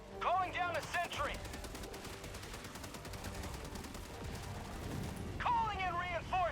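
A sentry gun in a military shooter video game firing a rapid, continuous stream of rattling shots, steady and mid-distance, with a voice speaking at the start and end.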